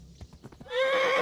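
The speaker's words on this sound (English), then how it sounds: "this horse is an absolute bastard" A horse in Kingdom Come Deliverance gives a few soft hoof clops, then breaks into a loud, close, sustained neigh that rises and holds to the end.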